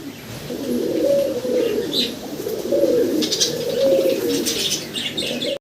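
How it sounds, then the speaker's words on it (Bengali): Several fall running pigeons coo in repeated low rolling phrases, close and fairly loud, with occasional chirps and faint wing rustles between calls. "দুই জোড়া হচ্ছে ফোল রানিং সামনের দুটা নর ওই ডান পাশের দুটা মাঝি ফোল রানিং কবুতর"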